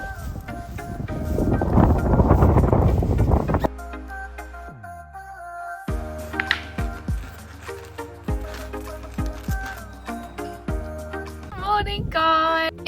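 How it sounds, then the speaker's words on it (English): Wind gusts buffet the microphone outdoors, a loud rushing roar for the first few seconds before giving way to steadier tonal sounds and scattered clicks. "So windy."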